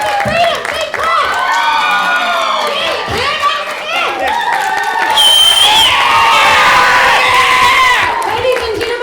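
Comedy show audience at a London venue clapping and cheering, loud sustained roar with whoops and shrill shouts rising and falling, swelling toward the end, with voices yelling over the crowd.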